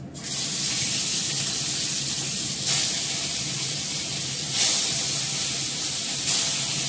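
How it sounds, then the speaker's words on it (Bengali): Catla fish fry in hot oil in a pan, a loud, steady close hiss that swells briefly every couple of seconds. "মাছগুলো ভেজে নেবো। কাতলা মাছ"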